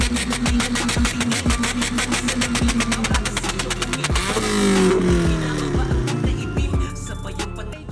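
A Honda car's exhaust fires off a fast string of sharp pops and bangs over a loud, revving engine, the crackles running throughout at close range.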